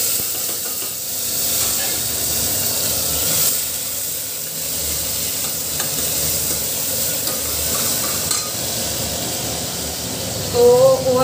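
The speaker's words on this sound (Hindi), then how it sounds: "अभी मैं सब्जी में तड़का लगा रही हूँ" Steady broadband hiss of spices sizzling in hot oil, tempering a vegetable dish, continuous and fairly loud throughout, with a brief clatter near the end.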